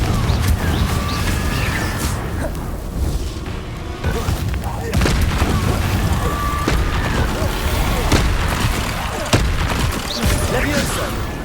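Explosion spells cast repeatedly in a wizarding video game, a continuous run of booming blasts and crackling impacts with sharp transient hits scattered throughout, loud and dense with a voice talking over the noise.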